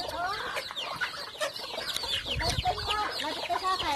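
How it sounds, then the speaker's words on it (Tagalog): A flock of farmyard chickens cluck busily during afternoon feeding in the rural provinces, many overlapping calls close by and fairly loud, with constant chatter and brief rustling throughout. "kapag ganitong hapon, nagpapakain ng mga manok"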